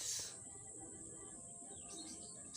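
Racing pigeons coo softly as they enter the loft, faint low murmuring calls over a quiet outdoor background with a thin, steady high-pitched hiss of insects or ambience.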